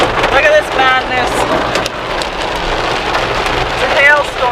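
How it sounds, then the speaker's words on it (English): A heavy hailstorm with pouring rain drums steadily and loudly on nearby surfaces during a lightning storm beside a lake, a dense unbroken patter throughout, with excited voices talking over it at moments. "It's a hailstorm."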